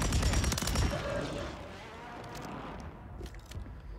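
Rapid bursts of WSP Swarm SMG fire in Call of Duty, loud and dense at first, then trailing into scattered shots and echoing gunfire further off.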